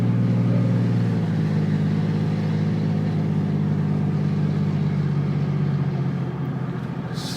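A car drives along a hilly rural road, its engine droning steadily and loud from inside the cabin, pitch sagging gradually as it works up or down the grade, with a faint rattle near the end.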